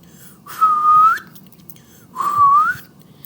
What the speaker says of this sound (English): I whistle like coming air inside me.